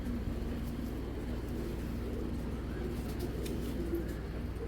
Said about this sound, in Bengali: মাশাআল্লাহ অনেক সুন্দর কবুতরগুলা